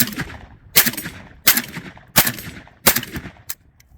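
A JTS M12AK AK-style shotgun fires Black Aces buckshot at a range: five loud, sharp shots spaced about three-quarters of a second apart, each followed by a short echoing decay.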